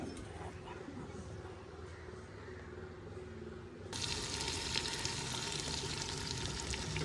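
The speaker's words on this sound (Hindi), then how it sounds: "चिकन माशाल्लाह अभी अच्छे से भून गया है।" Chicken frying bhuna-style in a pot gives a steady hiss and sizzle throughout, turning noticeably louder and brighter halfway through as if the lid came off or heat rose.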